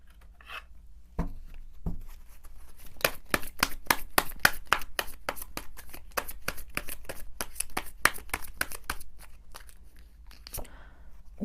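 Tarot cards are shuffled and drawn, with a few soft slaps at first, then a rapid run of crisp riffling flicks, close and fairly loud, easing off into a final card placed down.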